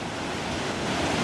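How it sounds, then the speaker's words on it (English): A big waterfall at an amusement park water ride gives a continuous broadband roar of rushing water, loud and steady for a brief moment, with wind buffeting the microphone. "Look at the big waterfall down there."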